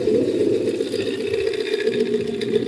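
A home refrigerator runs noisily, giving off a steady, loud mechanical hum and rattle that holds constant without a break.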